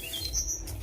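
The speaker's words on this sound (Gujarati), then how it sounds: "પક્ષીઓનો અવાજ આવે છે." Birds in Gir forest near Jatashankar give a few short, bright chirps in quick succession, clear and fairly close over a soft outdoor hush.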